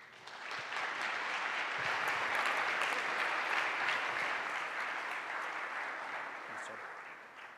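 A school audience at Westminster gives a sustained burst of applause that swells quickly, stays dense for several seconds and then tapers slightly, with faint voices mixed in.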